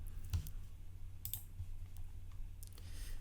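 A computer mouse gives a few sharp, quiet clicks close by, set against a low steady hum, with no talk.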